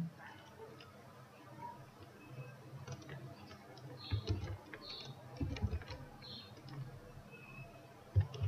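Keys on a computer keyboard being typed as text is entered, a faint, scattered patter of soft clicks over a low background hum, with a few sharper taps near the end.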